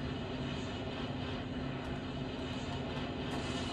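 A Predator drone aircraft engine in a video game drones steadily and loudly, a constant buzzing hum with no pauses and no talk over it.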